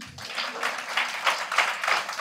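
An audience at a Balvikas education wing gathering claps at a speech, a short burst of scattered, moderately loud applause with no voices over it.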